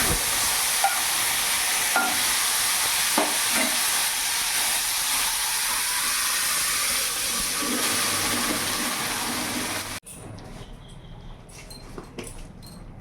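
Boiled dal poured into hot oil seasoned with turmeric and Kashmiri chilli powder for mixed dal, with a loud continuous sizzle and hiss and occasional stirring scrapes that drop sharply to a quiet bubbling near the end.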